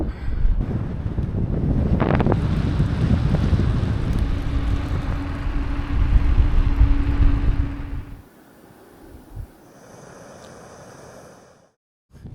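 Strong wind roars and buffets a microphone on a winter cycling trip through mountainous Iceland, loud and steady for about eight seconds before dropping away to near quiet.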